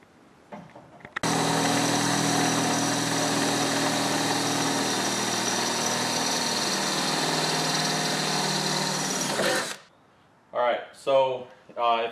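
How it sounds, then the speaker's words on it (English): A drill with a 3/8 inch bit boring holes into the bed of a 2023 Toyota Tacoma: a loud, steady motor whine that runs continuously for about eight seconds, then stops, followed by a few short bursts of talk. "take the 3/8 bit and you're going to drill out these 3 holes here"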